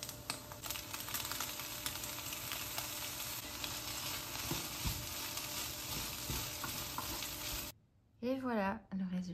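Vegan scrambled eggs made with soy cream fry in a pan with a close, dense crackling sizzle and occasional stirring scrapes, then cut off abruptly as a voice speaks for the final second or so.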